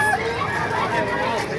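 Chickens clucking and crowing amid a busy crowd at a poultry market in Baliuag, Bulacan, the birds mixed into steady chatter with someone talking close by.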